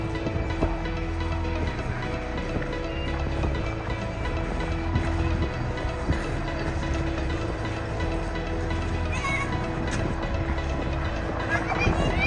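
A train rumbles steadily at a railway station near the Glenfinnan Viaduct in mountainous Scotland, with a continuous low engine and wheel drone and faint clanks, heard from close by outdoors.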